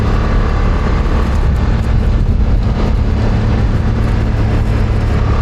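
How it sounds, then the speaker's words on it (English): A BMW F900R motorcycle ridden at around 50 km/h through a dark corner, a steady loud engine drone dominated by low rumble and wind noise. "Yep, definitely feels good to ride this bike in here."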